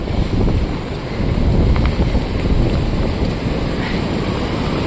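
Strong wind during a cloudburst buffets the microphone with a steady, heavy roar, gusting louder and softer throughout, with a faint wash of floodwater underneath.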